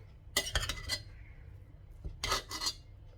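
Cooked mushroom biryani being stirred in a pot, with two clusters of scraping, clinking spoon-against-metal sounds separated by a short quiet gap, fairly close and moderately loud.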